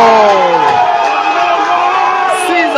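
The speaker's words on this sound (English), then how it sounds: "causes the crowd to burst in joy as they chant his name and tip him" Crowd at a pool match in Kampala bursts into loud cheering and whooping right after a skill shot, a dense roar of many voices that holds for the whole stretch.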